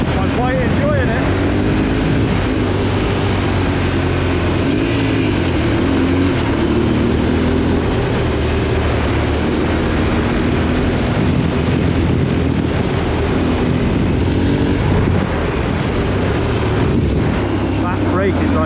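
A Yamaha Tenere 700 motorcycle being ridden, its engine a steady loud drone mixed with heavy wind rush throughout, with a rider speaking over it.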